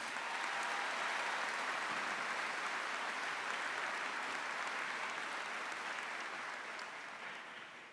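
Crowd applause at a high school commencement ceremony, a soft, distant, even wash of many hands clapping that runs steadily and slowly fades at the end.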